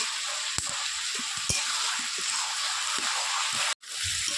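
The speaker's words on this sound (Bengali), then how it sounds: "কুমড়োটা সেদ্ধ হয়ে গেছে, এবার চিংড়ি মাছগুলো দিয়ে আর একটু ভেজে নেব।" Dried shrimp fry with softened pumpkin in a pan, a moderate steady sizzle punctuated by several sharp utensil knocks and stirring scrapes, with a brief gap near the end.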